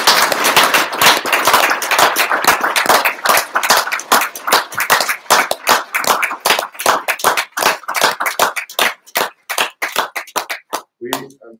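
An audience claps in sharp, distinct bursts at a formal gathering, starting as a dense rapid patter and gradually thinning into scattered individual claps that trail off to a few final isolated hand slaps.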